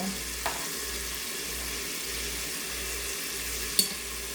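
Beef browning in a pot gives off a steady low sizzle, with a couple of faint clicks from a utensil and no voices.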